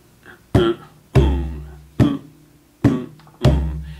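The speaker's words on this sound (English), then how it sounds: "we're going to be playing a nice big bass note on the first beat" Deep resonant hand drum bass notes struck in a steady pattern, five strong hits each ringing out, with lighter sharp taps on the drum shell between them.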